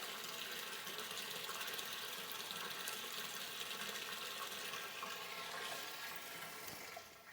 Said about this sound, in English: I'm going to take the slurry pump and I'm going to go ahead and turn it on.